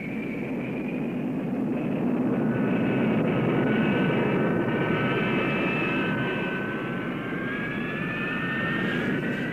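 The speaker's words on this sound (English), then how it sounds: "Ground runs at dry and afterburning thrust were undertaken to prove the basic installation" Steady, continuous roar of the XF-4D-1 Skyray naval interceptor's jet engine during an afterburning ground run, heard close and loud with a rising whine layered over a broad rumble.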